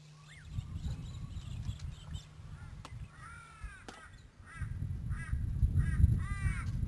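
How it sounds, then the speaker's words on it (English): A little crow, an omnivorous bird of Queensland's dry interior, calls with a run of harsh, nasal caws in short repeated bursts, fairly near, over steady low outdoor rumble and other faint bird calls. "The little crow is found throughout the dry interior."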